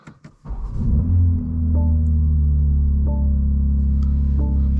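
A BMW M2 G87 with a loud exhaust starts off and cruises, its deep engine rumble and exhaust drone rising quickly after a few brief clicks, then holding steady and loud, with light shifts in tone as it drives.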